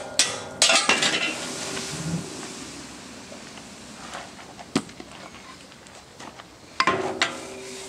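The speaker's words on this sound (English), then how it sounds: "Rake all the char" A metal rake scrapes and clinks as charcoal is raked out of a gasifier at dusk, with several sharp metallic scrapes and clanks scattered over a soft hissing background, fairly close and alone without talk.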